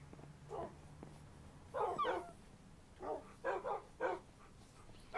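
Dogs in the Minecraft Hexxit modpack video game barking in a village, several short yaps in an irregular series at moderate distance, with soft game ambience between them and no talk.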